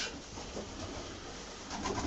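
Racing pigeons in a loft near Koszalin, Poland, give faint, low cooing over a constant hiss, with no one speaking.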